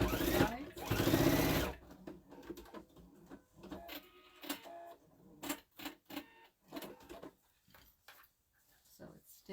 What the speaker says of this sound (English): And then you just sew this down the sides.